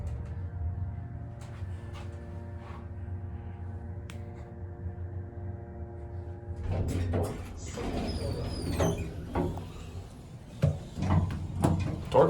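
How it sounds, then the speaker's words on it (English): An Otis hydraulic elevator door with a Schindler modernization slides shut at a Boscov's store in Millcreek Mall, Erie, Pennsylvania; a steady hum gives way to a nearby rumbling close with clunks and a brief squeal, ending in a couple of thuds. "Door closes when I push the button."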